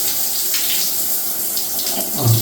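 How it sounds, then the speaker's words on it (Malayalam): Cold water from a shower fitted with a diverter dial pours in a steady, close and fairly loud rushing hiss that runs without a break and has no voices over it. "ഇതിലേക്ക് നമ്മൾ ഷവർ ഓൺ ചെയ്യുന്നു. ഇതിപ്പോൾ കോൾഡ് വാട്ടർ, പ്യൂർലി കോൾഡ് വാട്ടറാണ് ഇതിൽ വരുന്നത്."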